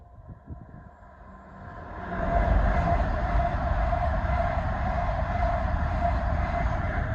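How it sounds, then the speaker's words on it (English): A GWR Azuma train bound from London Paddington to Cardiff Central passes through Ealing Broadway station, starting as a faint approach and swelling into a steady, loud rumbling roar that lasts to the end. "Here we have the 1123 GWR Azuma from London Paddington to Cardiff Central"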